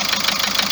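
A car engine idles with a fast, even ticking and knocking fault, a steady mechanical clatter heard close up for under a second, with no talking.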